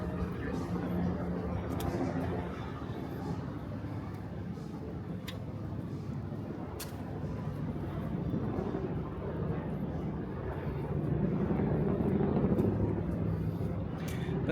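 A continuous low rumble of helicopter rotor and engine noise overhead in Lower Manhattan near the waterfront heliports, swelling louder toward the end, with faint ticking and distant background activity.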